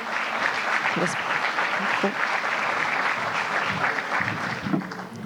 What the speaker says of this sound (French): Vous pouvez l'encourager, l'applaudir.